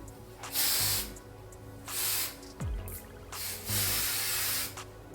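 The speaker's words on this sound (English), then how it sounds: "I'm just gonna spray everything." Hairspray hisses in several bursts over feed-in braids, each spray a loud, broad whoosh lasting about a second, separated by short pauses with faint handling noise.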